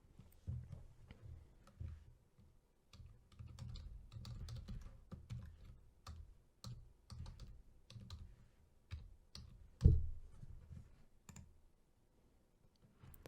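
Keys clatter on a computer keyboard as an email address is typed, a quick uneven run of close, quiet clicks with short pauses and one sharper tap near the end.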